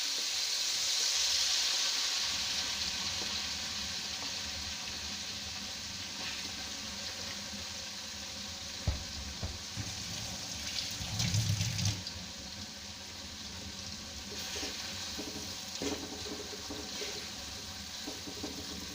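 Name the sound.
frying grated coconut in oil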